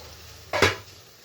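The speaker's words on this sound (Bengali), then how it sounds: "ঢাকনাটা উঠিয়ে দিই।" A lid is lifted off a pot of spiced potato and flat-bean fish curry, one short metallic clatter followed by a brief scraping swish, close and alone against quiet background.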